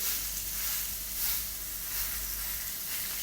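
Two beef steaks sear in a hot frying pan, giving a steady, close hiss and crackle of sizzling fat that holds at an even level throughout, with no talk.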